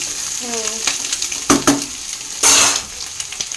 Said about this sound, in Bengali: ও একটু লবণ দিয়ে দিলাম, ভালো করে কষিয়ে নিচ্ছি।